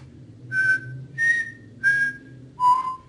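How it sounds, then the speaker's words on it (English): Four separate whistled notes from a person, each a clear pure tone held about a quarter second, the last one lower in pitch, with quiet background hum between them. "And you'll know that you're whistling because it'll feel different from blowing."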